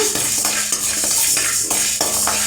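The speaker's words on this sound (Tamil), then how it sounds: "உளுத்தம்பருப்பை நம்ம நல்லா வறுத்து எடுத்துக்கலாங்க." Urad dal dry-roasting in a pan for tamarind rice powder, with steady scraping and clinking of a spatula stirring the lentils against the metal, repeated strokes close up and continuous, no talk.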